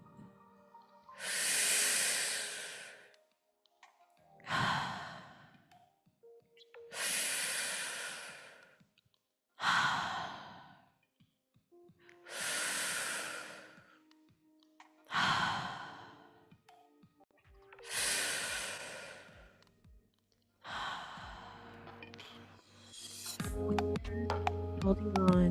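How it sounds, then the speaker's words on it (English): Breathwork breathing, in through the nose and out through the mouth: seven slow, loud, rhythmic breath cycles follow one another about every three to four seconds, each a breathy hiss, ending with a soft musical tone beneath the final breath. "begin our breathing in through the nose and out through the mouth"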